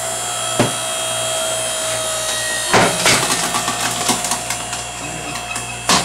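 A Homelite 5 ton electric log splitter works a log up to about 20 inches across, giving a steady electric motor hum with a high whine, broken by sharp cracks and creaks of splitting wood near the middle.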